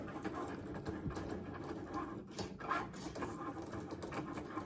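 A Cricut Maker cutting machine works through a sticker sheet, giving a steady mechanical whir with faint clicking carriage movement, fairly quiet and continuous, with no talking.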